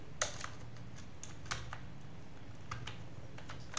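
Keys on a computer keyboard are tapped while HTML code with inline CSS styling is typed, giving sparse, faint clicks in small clusters over a quiet room hum.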